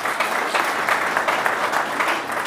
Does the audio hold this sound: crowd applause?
yes